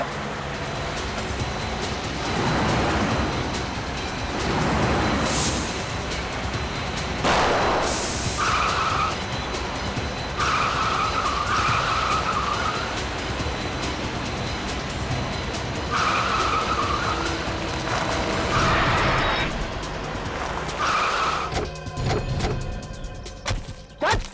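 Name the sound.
car speeding and skidding in a chase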